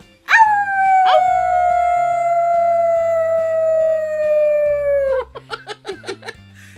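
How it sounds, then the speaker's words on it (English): Pretzel the puppy lets out a long, high howl that slides slowly downward and holds for several seconds, then breaks into a quick run of short yips, close and loud. "it was like a weird sort of barky howl"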